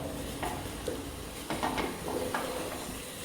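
A spoon scrapes and clinks softly in a pan of chicken curry masala with hot water just added, quiet stirring strokes over a low background hiss, no voices.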